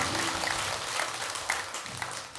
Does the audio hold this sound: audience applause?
yes